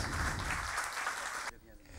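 Audience applause at a commemoration gathering, a dense burst of clapping that stops abruptly after about a second and a half, leaving quiet room noise.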